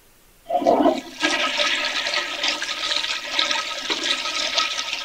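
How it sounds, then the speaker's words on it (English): A toilet flushes close by: a brief gurgle, then a steady loud rush of water that carries on for several seconds. "why do you continuously to keep flushing the toilet?"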